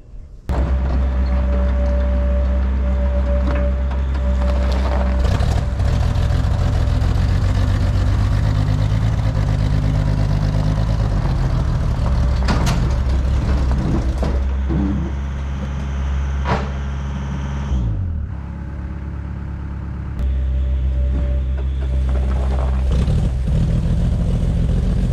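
An excavator pulls an old 1950s Galion road grader with the engine running: a loud, close, continuous diesel drone with shifts in revving and a brief dip in the engine note before it steadies again, with no voices.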